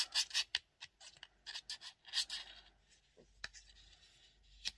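Glue is spread by hand on a small craft card, making faint, close scratching and rubbing strokes. The strokes come in quick clusters at the start, then thin out to a few isolated scrapes.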